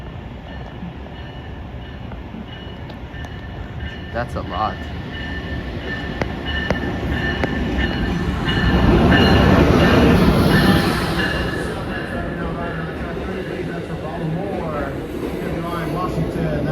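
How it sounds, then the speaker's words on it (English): An Amtrak train pulls into Wilmington station in Delaware, its rumble building to a loud close pass then easing off with a steady rolling roar and faint wheel squeal, while a voice briefly speaks over it. "Here comes the train."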